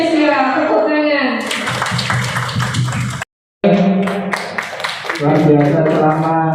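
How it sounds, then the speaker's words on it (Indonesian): Teachers at an Indonesian training session clap together in a rhythmic pattern, crisp hand claps mixed with loud chanting voices, broken by a brief silent gap before clapping and voices resume. "Tepuk tangan."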